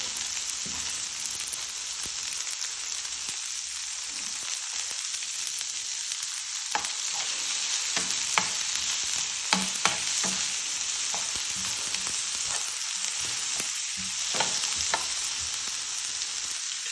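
Tomatoes, onions and garlic sizzle steadily in a pan while making pig soup, with a continuous hiss broken by repeated sharp clicks and scrapes of stirring, close and fairly loud throughout.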